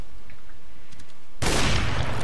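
Gunfire from a first-person shooter match, arriving as a sudden dense burst of loud rapid shots that fills the second half after quieter game ambience.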